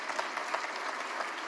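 Brief burst of audience applause in a lecture hall, a steady patter of many hands clapping at moderate distance, fairly soft and short.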